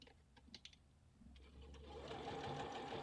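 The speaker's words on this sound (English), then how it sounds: "I tend to have a longer stitch length when I top stitch" A sewing machine starts up softly and then runs steadily at a close, even hum, top stitching with a longer stitch length along a small doll-sized crop top.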